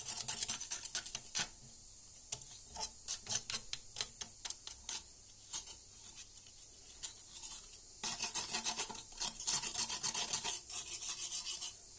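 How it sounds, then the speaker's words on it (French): A knife scrapes deposits off the gasket seat of a water heater heating element, giving repeated close rasping strokes in bursts, then a denser continuous scraping toward the end. "Avec un couteau, tout simplement, tout simple. Pas de produit, rien du tout. On gratte, c'est tout."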